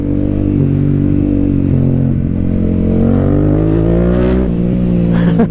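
A Yamaha MT-07 motorcycle engine revs loudly and close, its pitch climbing and dipping through several throttle blips while riding along a back road.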